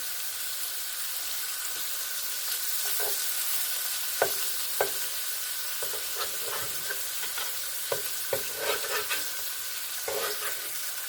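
Hamburger patties fry in butter in a cast iron skillet with a steady, close sizzle, broken by occasional sharp clicks and scrapes of a spatula against the iron.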